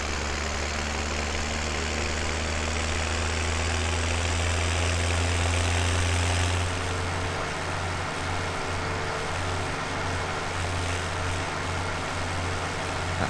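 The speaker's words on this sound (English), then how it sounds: "At least this tractor goes 26 miles an hour," A tractor engine drones steadily while driving in the Farming Simulator 17 farming game, a loud continuous low hum with a strong steady tone that shifts slightly in pitch partway through.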